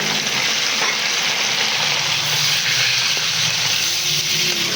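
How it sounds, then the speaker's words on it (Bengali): Beef frying with fried onions in a pot for a taro and beef curry, a loud, dense, continuous sizzle with faint stirring scrapes, close and steady throughout. "কিছুক্ষণ এই ভাজা পেঁয়াজের সাথে ভালোভাবে মাংসটাকে কষিয়ে"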